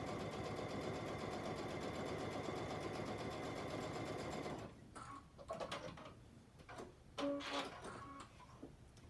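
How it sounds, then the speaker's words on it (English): A home sewing machine stitches a quarter-inch seam on a half-square triangle quilt block, a steady rapid whirr for several seconds, then stops and gives way to soft fabric handling and clicks. "I'm just sewing 1/4 inch away from my center line that I just drew"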